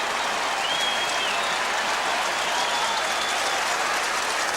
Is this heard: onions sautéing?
no